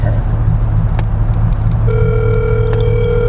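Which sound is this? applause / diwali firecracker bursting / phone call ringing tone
phone call ringing tone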